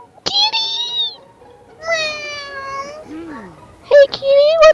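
Cat meows in the video game Last Word: several drawn-out, close, clear meows separated by pauses, ending in a couple of shorter chirpy calls, with no talk over them.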